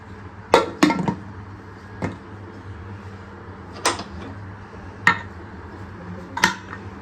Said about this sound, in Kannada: ಇವಾಗ ಕುಕ್ಕರ್ ಮುಚ್ಚಳ ಹಾಕ್ಬಿಡೋಣ